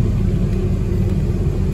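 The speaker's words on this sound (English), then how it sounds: "The bus is departing." A Honolulu TheBus city bus on Route 32 pulls away from a stop, its heavy engine rumbling steadily and loudly from inside the cabin throughout.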